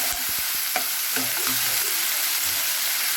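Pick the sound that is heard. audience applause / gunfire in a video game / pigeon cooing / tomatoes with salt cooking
tomatoes with salt cooking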